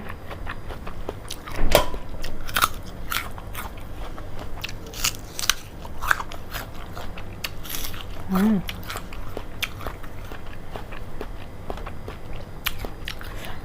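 A crisp, sweet chocolate jujube fruit is bitten and chewed close up, repeated crunchy snaps and moist crackling bites over a steady background hiss.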